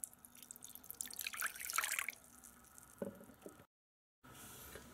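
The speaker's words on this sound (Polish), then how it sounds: "wystarczy nalać do miseczki trochę wody" A little water trickles and drips into a small bowl, a faint close splashing that peaks briefly and then fades, followed by a short silent gap and quiet room noise.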